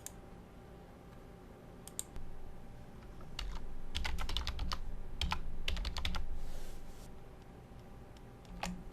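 Keyboard keys being typed as a password is entered on a computer, with bursts of close, crisp clicks and short pauses between runs, alone with no talking.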